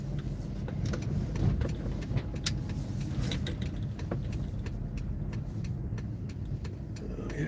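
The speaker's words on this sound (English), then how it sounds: "There's a car coming up this. You hardly ever see any traffic here." A car climbing a quiet road, heard as a steady low engine rumble and tyre noise at moderate distance, continuous throughout with scattered sharper ticks and clicks on top.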